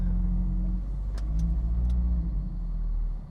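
A Mazda Miata engine idles steadily up close, a loud, even low rumble with a few faint clicks on top and no one talking.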